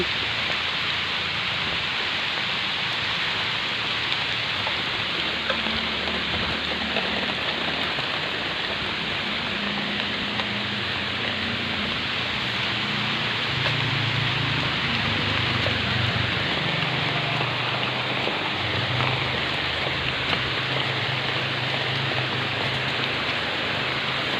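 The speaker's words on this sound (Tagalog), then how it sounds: "Ayun na guys, umuulan na." Steady rain pours down continuously, a dense hiss of drops on surfaces with no voices, holding an even loudness throughout.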